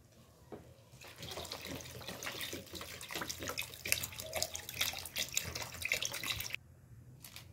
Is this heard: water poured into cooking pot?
yes